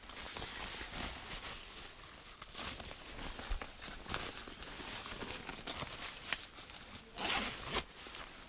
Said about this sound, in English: then pull on the zip